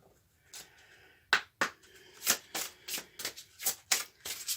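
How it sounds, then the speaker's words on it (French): Cards handled and slid from a deck in a series of crisp papery flicks and snaps, uneven in rhythm, close and clear in an otherwise quiet room. "Et je vais prendre la carte du dragon."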